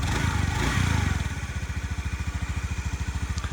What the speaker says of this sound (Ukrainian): Двигунчик такий схожий на мотоцикла якогось малокубатурного, якусь 125-ку